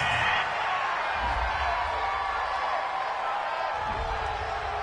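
Home crowd in a PS4 sports video game cheering a referee's call, a steady broad roar of noise filling the whole moment, loud and continuous, with no voices standing out.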